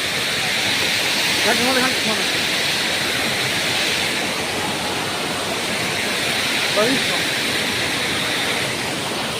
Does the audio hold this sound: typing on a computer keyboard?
no